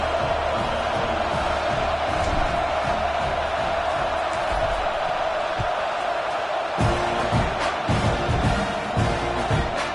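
A football stadium crowd at a TCU vs Texas A&M game makes a dense, steady distant roar that swells with louder bursts of noise near the end.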